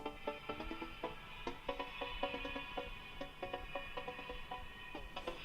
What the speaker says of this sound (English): So I've put a Trance Gate on both the left and the right channel with different pulses coming through